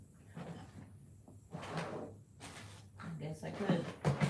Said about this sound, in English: maybe I could pull out the whole drawer